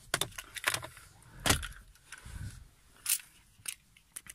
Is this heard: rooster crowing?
no